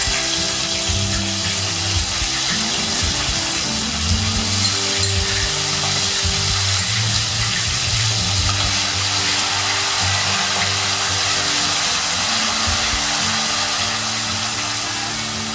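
Potato, garlic and chili paste frying in a pan for Bombay street food, a loud continuous sizzle with occasional stirring scrapes throughout.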